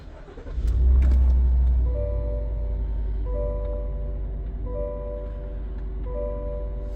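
A Chevy Suburban engine cranks and catches with a loud surge, then settles into a steady low idle, while a repeating chime sounds faintly over the running engine.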